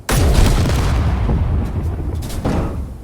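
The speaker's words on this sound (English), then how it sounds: "Oh, big explosion." Warhead detonation in the space-building game Space Engineers: a sudden loud boom followed by a rumbling, crackling decay, with a second smaller burst near the end.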